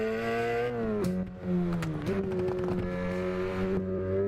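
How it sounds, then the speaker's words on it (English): A race car in a sim racing game at the Nordschleife revs hard, and sharp exhaust pops crackle in short bursts as the engine pitch drops and climbs again between shifts. "The pops are loud on this car"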